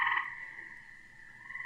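Tree frogs in the woods call with a loud, sustained trilling croak, strongest at the start and then continuing steadily, close and clear with no talk.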